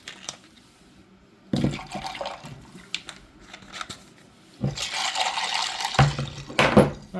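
A little water splashes into a cleaning mix used on the parts of a DTech 3300K karaoke amplifier mixer during restoration, heard as two short bursts of pouring and sloshing with quieter gaps between them.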